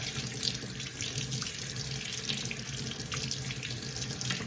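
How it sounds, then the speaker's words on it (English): A steady stream of tap water runs into a sink as soapy hands are rinsed, a continuous close splashing wash with no voices. "Then I just give them a good rinse. Get all those suds off, just like that."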